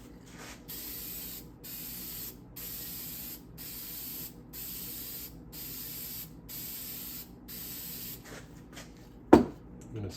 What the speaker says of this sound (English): I'm gonna spray another one soon.